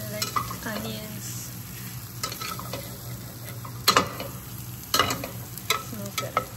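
Onions sizzle in a hot pan while being stirred, a soft steady frying hiss broken by a few sharp scrapes and clinks of the utensil against the pan.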